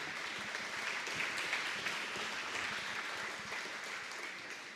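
A chamber of commerce awards audience applauds indoors in a continuous, moderately distant patter of many hands that fades slightly toward the end.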